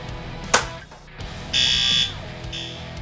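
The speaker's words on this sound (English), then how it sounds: "make sure you activate your fire alarm system" A loud fire alarm blares in two bursts inside a fire safety training trailer, a long tone then a shorter one, with a sharp bang just before and some background noise.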